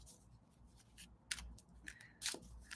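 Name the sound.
shuffling a deck of cards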